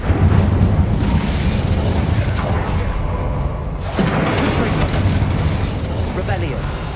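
Incendio fire spell cast in Hogwarts Legacy, a sustained roaring whoosh of flame with a fresh burst midway, loud and dense.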